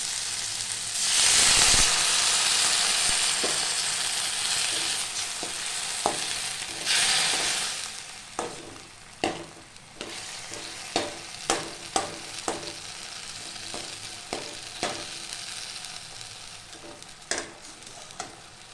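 A groundnut masala simmers in a pan, sizzling and bubbling steadily, with a loud burst early on, then a spoon stirring and tapping in irregular knocks over the continuous frying hiss.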